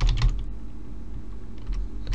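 Continuous rapid clicking of keys being typed on a computer keyboard, close up and steady throughout, with no voices.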